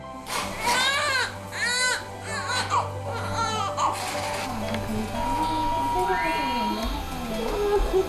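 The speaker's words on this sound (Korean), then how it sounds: "아이의 힘찬 울음소리에 울음이 터진 엄마." A newborn baby cries loudly in a hospital delivery room, with repeated rising wails near the mic, then softer whimpers and sobbing from the mother, with a background hum throughout.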